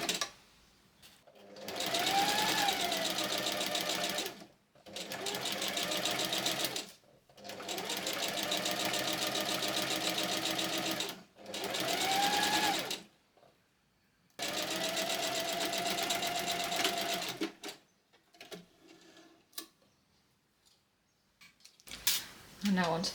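A sewing machine runs in several steady bursts while stitching a seam on a top, each run lasting a few seconds with short pauses between, close and loud, followed by quieter handling noises near the end.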